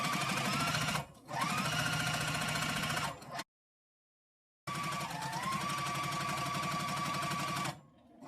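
A sewing machine stitches a quilted zipper case in two long, steady runs of rapid, even mechanical chatter, close and fairly loud, broken by a short pause and a full stop in the middle.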